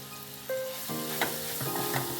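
Ground chili masala paste hits a hot pan and sizzles loudly and steadily, with a few stirring scrapes over the short stretch, close and without any voices.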